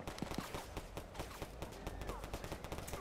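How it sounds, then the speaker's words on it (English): Rapid gunfire from the street outside in the Roblox game Tha Bronx 2, a dense run of sharp shots and bursts going on steadily for a few seconds with no talking. "You heard all that shooting outside?"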